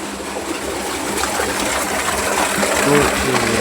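A solar-powered pump pushes a heavy, steady rush of water that sounds loud and close, with a constant gushing roar throughout and a voice briefly audible underneath.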